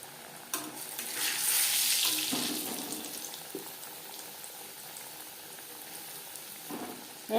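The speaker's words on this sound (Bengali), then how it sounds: "হাই ফ্লেমে বেশ খানিকটা রিফাইন্ড অয়েল গরম করে নিয়েছি। ভাজবো" Chicken pieces going into hot refined oil set a sizzle of frying that swells loudly soon after the start, then settles into a steadier crackle with a few brief knocks, with no voices.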